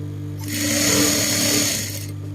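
A sewing machine stitches polka dot cotton fabric for a big-size blouse, its motor whirring up loudly in one continuous run of about a second and a half before stopping, close and alone.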